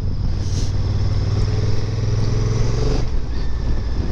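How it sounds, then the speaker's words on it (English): A 2022 Honda NT1100 motorcycle engine while riding, a steady low droning hum with a slight pitch rise before easing off, loud and close, with wind rush around it and no talk. "It's a very torquey engine,"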